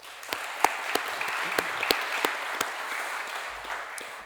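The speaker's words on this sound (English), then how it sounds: "I also want to have an applause for all these partners." A small audience at a Royal Tropical Institute graduation ceremony claps for partners, light, sparse applause with a few distinct sharp claps standing out over a soft, distant patter.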